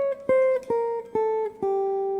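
A diminished scale line played on a single instrument, five clear plucked notes stepping downward in an even rhythm with short gaps between them, heard alone with no talking.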